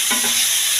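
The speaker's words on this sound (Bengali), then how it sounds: "একটু নাড়াচাড়া করার পর একটু ভাজা ভাজা হবে" Hilsa fish head frying in oil with no added water, stirred in the pan, giving a brief steady sizzle with a scrape of stirring near the start.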